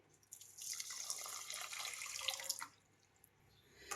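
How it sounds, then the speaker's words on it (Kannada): Water poured over sugar in a cup or pan, a steady trickling splash running for about two seconds and then stopping, close and alone. "ಈಗ ನೀರು ಹಾಕ್ತಾ ಇದ್ದೀನಿ."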